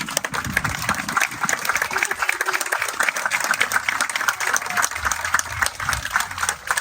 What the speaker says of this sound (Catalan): per als que demanen un aplaudiment.